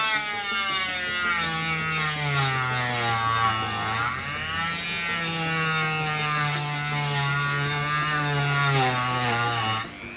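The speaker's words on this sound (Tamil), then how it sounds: "இப்போ நம்ம கிரைண்டிங் பண்ணி பார்ப்போம்." An INGCO mini rotary tool grinds and polishes with a steady, high-pitched motor whine that runs continuously and close by, dipping briefly in pitch partway through before recovering, with no talking.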